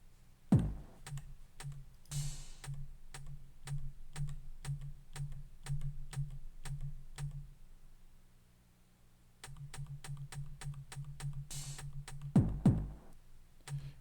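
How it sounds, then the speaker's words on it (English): Plus and minus keys clicked on a Teenage Engineering EP-133 K.O. II sampler while its sequence plays. Steady, evenly spaced clicks ride over a repeating low drum pattern, with a couple of louder thumps, a short pause midway, then resuming. "here's a demonstration of stepping through the sequence with the keys"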